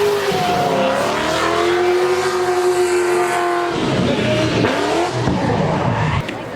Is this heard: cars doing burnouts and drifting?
yes